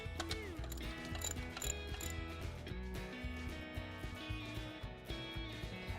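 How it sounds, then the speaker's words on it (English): A ratchet wrench works loose the upper bolt on a car alternator with steady, rapid clicking throughout, mixed with a continuous tonal hum. "And now we remove the upper bolt."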